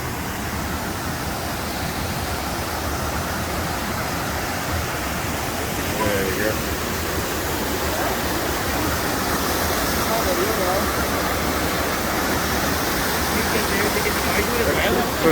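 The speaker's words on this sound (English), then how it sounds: "Across the bridge, there's the waterfalls." Waterfalls beside a bridge on the West Highland Way between Sallochy on Loch Lomond and Tyndrum rush in a steady, broad roar that grows slightly louder over time, with no talk heard.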